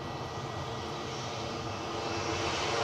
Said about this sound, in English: KLM lining up for the return to Amsterdam